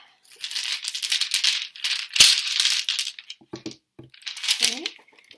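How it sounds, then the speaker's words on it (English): Small divination dice rattle in a hand or cup, a dense clattering run broken by brief pauses, with sharp clicks of dice landing near the end, loud and close. "So the divination dice."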